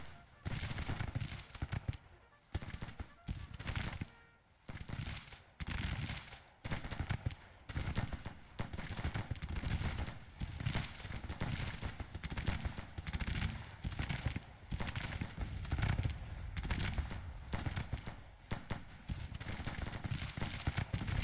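Civil War battle in the Grand Tactician game at Glorieta Pass, with Union troops taking flanking fire from Sharp's carbines: dense, continuous volleys of rifle shots crackle close and far, overlapping in rapid bursts with brief lulls.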